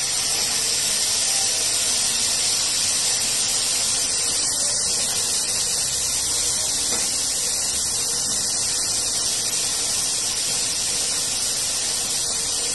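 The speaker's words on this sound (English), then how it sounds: "fry the halloumi" Halloumi fries in olive oil with a loud, continuous close-up sizzle and spitting hiss that holds steady throughout.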